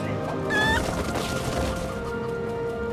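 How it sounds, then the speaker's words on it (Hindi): Chickens cluck in the How To Train Your Dragon game on the Wii, a few clucks and squawks over a busy, continuous game soundscape, moderately loud and close. "ये रही चिकेंस।"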